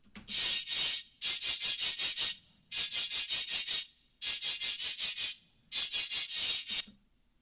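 Bright, band-limited bursts come through a soloed FabFilter Saturn distortion band in rapid rhythmic groups of strokes, repeating five times with short gaps, sounding like a harsh scratchy rubbing texture.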